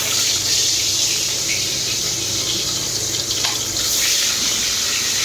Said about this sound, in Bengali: মাছগুলো আগে তেলে দিই, তেলটা গরম হয়ে গেছে